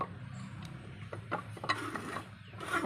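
A bolt is tightened on the hub of a tough steel blade disc, with quiet ratcheting clicks and metallic mechanical ticks in short irregular bursts, close by.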